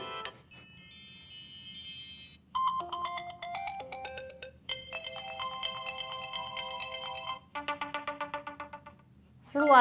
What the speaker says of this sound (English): a lot of new ringtones